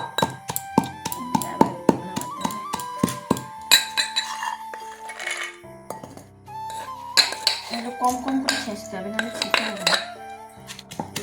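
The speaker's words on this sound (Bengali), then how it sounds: "এই ছোট পিসগুলো সয়াবিন দিয়ে সুন্দর করে একদম থেতো করে নিবে" Small fish pieces mashed with soybean in a bowl, with repeated metallic clinks and taps of a utensil against the bowl in irregular bursts and ringing tones between.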